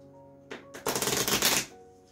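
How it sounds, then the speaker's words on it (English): A deck of playing cards shuffled during a close-up magic card trick: one quick, crisp riffle lasting about a second, fairly loud and clear against near silence. "Mix up the cards a bit."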